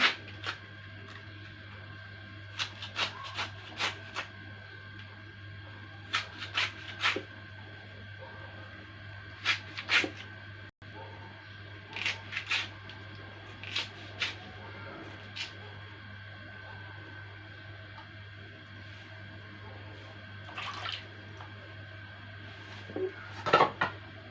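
Washed banana flower shells chopped with a knife on a board, sparse clicking and tapping cuts in short clusters, quiet and close, with a low steady hum in the background.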